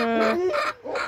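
A rooster's crow with a wavering harmonic call followed by short clucking bursts, fairly near and clear, with no talking.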